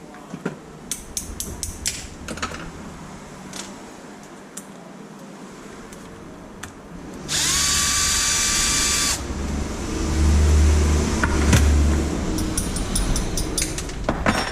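Power drill whirring steadily for a couple of seconds while backing screws out of a Traxxas Maxx 4S RC car, amid scattered clicks and handling clatter of small parts on a workbench.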